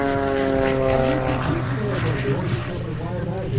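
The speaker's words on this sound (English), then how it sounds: "This is a two-place factory-built S2B Pitts. Powered by the Lycoming I-05-40 engine." A Pitts S-2B aerobatic biplane's Lycoming engine drones loudly and steadily up close at an air show, its low tonal hum unbroken throughout.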